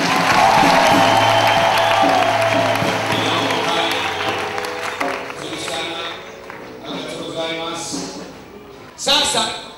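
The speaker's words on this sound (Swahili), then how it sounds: "Basi pigie makofi." Crowd applause in a church gathering, a loud burst of clapping and some cheering at the start that fades over several seconds, mixed with a preacher's voice.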